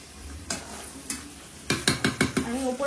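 Meat being sautéed and stirred in a pot for a dry spiced curry, a soft sizzle under a quick run of sharp metal spoon scrapes and knocks against the pot.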